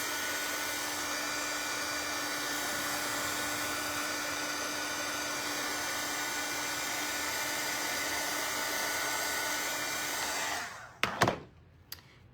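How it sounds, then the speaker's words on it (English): Hair dryer blowing on freshly painted work, a steady loud whirring hum with a constant tone that runs for about ten seconds before switching off, followed by a couple of brief knocks. "Gonna hit it with the dryer."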